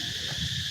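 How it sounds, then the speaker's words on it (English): Cicadas in Siem Reap, Cambodia, give a steady, dense high-pitched buzzing drone that holds constant throughout, moderately loud with no breaks. "Cicadas. Yeah, lots of cicadas here."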